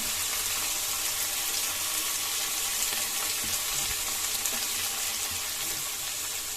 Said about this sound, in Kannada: ಇದು ಫ್ರೈ ಆಗ್ತಾ ಇದೆ ಮೀಡಿಯಂ ಫ್ಲೇಮಲ್ಲೇ ಫ್ರೈ ಮಾಡ್ಕೋಬೇಕಾಗುತ್ತೆ